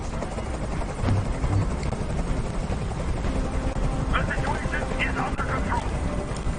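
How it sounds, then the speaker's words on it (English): A helicopter hovers nearby in the game Detroit: Become Human, a loud continuous rotor drone filling the scene, while voices speak over it. "I can't stand that noise anymore. Tell that helicopter to get out of here."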